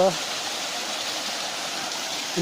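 A waterfall on a mountain trail near Garut pours with a steady broadband rush, constant and close, filling the clip without pause.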